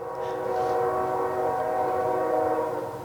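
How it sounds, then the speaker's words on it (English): A train rumbles past steadily, a loud sustained drone with strong horn-like tonal bands throughout, continuous and close. "there's the train again"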